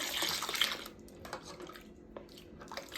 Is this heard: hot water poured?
yes